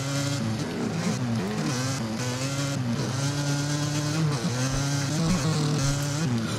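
Dirt bike engine in the MX vs ATV Legends video game, a steady buzzing motor drone with small pitch wobbles as the throttle shifts, loud and continuous with no talk.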